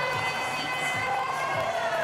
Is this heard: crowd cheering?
yes